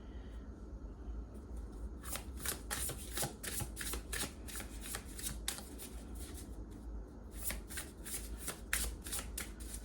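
Oracle cards being shuffled by hand: close, crisp riffling bursts repeating in an irregular rhythm, with short pauses between handfuls.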